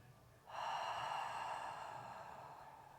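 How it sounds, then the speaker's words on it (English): A single long, deep exhale released after a big breath in during a slow core workout on a ball, a steady airy rush that starts abruptly, then fades gently, close and fairly quiet. "Big breath in. Expand all the way around. Exhale, let it all go."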